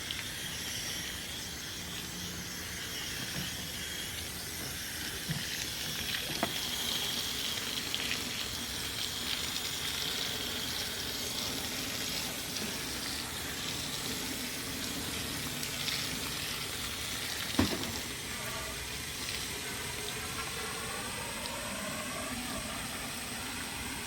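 Water rushing from a new garden hose into a planter pot, a continuous hiss and splash that runs steadily at moderate level for the whole stretch, with a brief sharp knock partway through.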